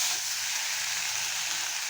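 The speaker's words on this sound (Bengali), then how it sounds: "তেলের উপরে একবার আমি মশলাটা দিয়ে দিলাম। মশলাটাকে কষিয়ে নেব।" Spice paste sizzling steadily in hot oil in a pan for a jackfruit and prawn dish, a continuous bright hiss of frying, close and even, with no talking.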